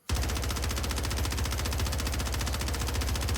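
SMG gunfire in Warzone, a single long burst that starts abruptly after a brief silence and fires in a fast, even rhythm to the end, moderately loud and without talk.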